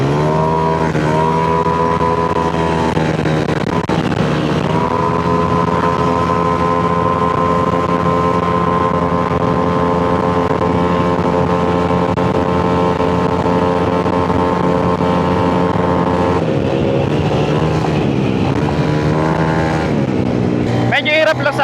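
A Honda Click 185 scooter engine revs hard while climbing uphill, a loud, sustained high-RPM drone with steady pitch that dips and recovers near the end.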